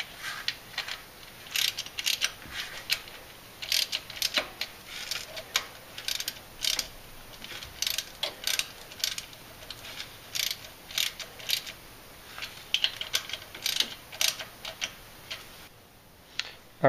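Cam bearing bolts on a Jeep 4.7 HO engine being snugged by hand with a ratchet, a quick run of light mechanical clicks repeated in short bursts, close and fairly faint, no speech.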